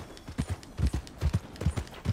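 Horse hooves clip-clop in a steady, close, trotting rhythm of paired beats in the video game Red Dead Redemption 2, with no talk over them.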